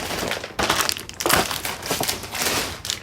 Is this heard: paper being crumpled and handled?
yes